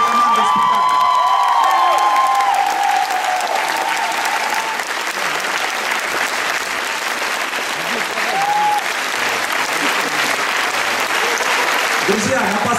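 Dense, sustained applause and cheering fill a theatre as the audience gives an ovation at the close of the final performance of the Zorro musical, steady and loud throughout with a few whoops.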